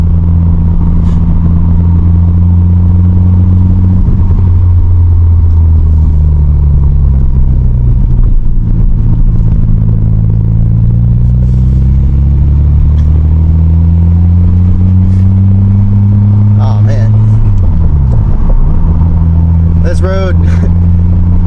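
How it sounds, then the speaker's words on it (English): A car engine drones while driving, its low pitch rising and falling, with a raspy, leaky exhaust rumble and occasional clatters throughout. "You hear the exhaust leak on camera."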